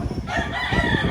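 A rooster crows once nearby, a loud drawn-out call over faint background noise.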